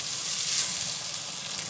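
Onion and pepper sizzle steadily in a hot pan as they are stirred, a close, continuous frying hiss with no voices.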